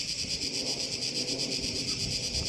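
A cicada sings in Greece, a continuous pulsing buzz with a fast regular throb, fairly close and steady over faint background noise.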